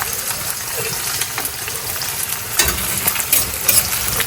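Panch phoron spices sizzle in hot oil with a dense, loud, steady frying hiss and scattered crackles, swelling slightly near the end.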